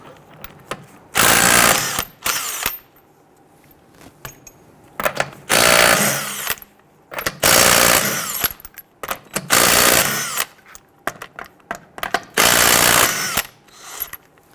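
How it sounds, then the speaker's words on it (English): Lug nuts on a 2006-2012 Toyota RAV4 are loosened with a 21mm socket, likely on a power tool, in repeated loud mechanical whirring bursts separated by short quiet gaps, with some ratcheting and clinking between. "Using a 21mm socket, go ahead and loosen and remove your lug nuts."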